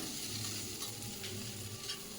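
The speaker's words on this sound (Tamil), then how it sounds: "இப்போ ரெண்டு முருங்கைக்காய் கட் பண்ணி வச்சுருக்கேன் அதையும் சேர்த்து இதில் நல்லா வதக்கிக்கிறேன்" Drumstick pieces sautéing in a pan for a village-style tamarind fish curry give a steady, close sizzle with a soft stirring scrape, continuous and without talk.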